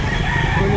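A rooster crows loudly and close at a weekend chicken market behind a shopping mall in Lipa, Batangas, filling the moment with dense crowd and market noise.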